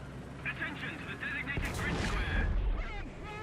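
A tank cannon round slams into the player's tank in War Thunder, a sudden loud boom and crunching impact over steady engine rumble and battle noise, with a voice talking over it.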